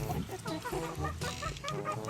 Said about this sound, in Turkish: Şöyle genç horozumuzu gösterelim.